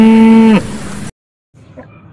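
A voice imitates a cow's moo for a white toy buffalo with horns, one loud drawn-out tone lasting about half a second, followed by a short gap and faint handling noise.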